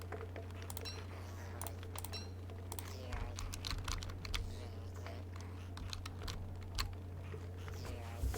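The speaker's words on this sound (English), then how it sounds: "I realize you guys can hear it, because my mic is positioned pretty much directly over the keyboard." Someone types rapidly on a computer keyboard right under a microphone, producing dense, irregular clicks over a low steady hum.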